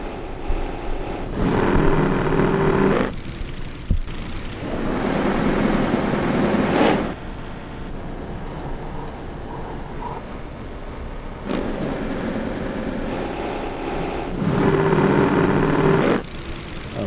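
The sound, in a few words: granulated motorbike pass-by recording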